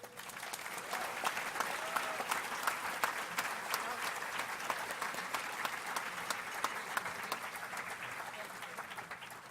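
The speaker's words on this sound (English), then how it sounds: "Those are the women clapping" At a softball hall of fame induction ceremony, women in the audience clap in steady, sustained applause with crisp individual claps audible, while a few voices murmur beneath it.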